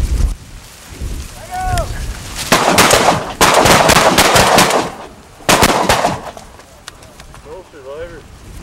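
Gunfire during a hunt comes as loud, close clusters of sharp reports in three bursts, with outdoor ambience and people's voices between them.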